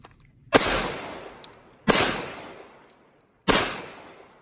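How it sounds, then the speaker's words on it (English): Three loud, close pistol shots from a SIG Sauer P320 Compact .45 ring out about 1.4 seconds apart. Each sharp crack is followed by a long echoing decay, with quiet gaps between shots. "I've never used a pistol with that little recoil. Especially shooting offhanded."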